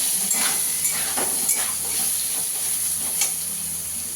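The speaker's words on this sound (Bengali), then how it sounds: "সয়াবিনটাকে দিয়েও একটু ভেজে নেবো ভালো করে" Steady sizzling of soybean chunks frying in a hot pan, with a few soft scraping stirs, close and continuous with no voices.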